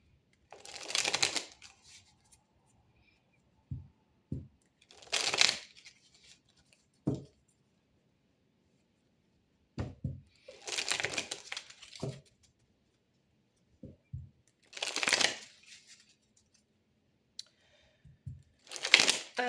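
Tarot cards being shuffled in several separate bursts, each a dry riffling rustle lasting about a second, with soft taps and shuffles of the deck between them, close and fairly quiet with no talk.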